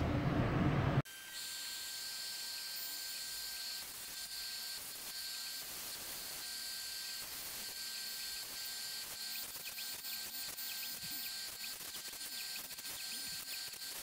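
A CNC router cuts TV riser parts from sheet material in a shop, a steady high whine with hissing and shifting mechanical tones running continuously after a brief louder burst at the start, no talking.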